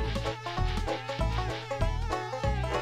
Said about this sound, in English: Oh, we found the bees!